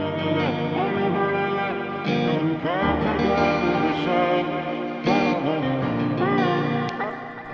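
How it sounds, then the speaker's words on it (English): A sustained, heavily processed musical sample with washy reverb and echo tails, its pitch sliding and smeared, playing continuously at steady loudness. "I added some reverb here, shifted the pitch a little bit"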